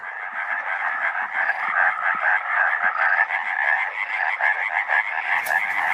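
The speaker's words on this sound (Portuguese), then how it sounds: "arborícola europeia tem apenas um saco sonoro para se fazer ouvir. Mas seu quachar chega a longas distâncias" A male European tree frog croaks in rapid, continuous pulsing trills, loud and close, with no talking.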